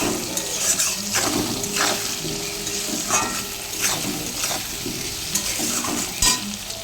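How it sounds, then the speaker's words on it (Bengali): Salted potatoes fry in a pan, a continuous close sizzle broken by repeated scrapes and knocks of a spoon stirring against the metal, with no voices. "আলু দিয়ে দিয়েছি নুনও দিয়ে দিয়েছি একটু ভাজা ভাজা হবে"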